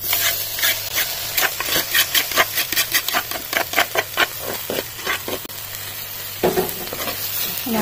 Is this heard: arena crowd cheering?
no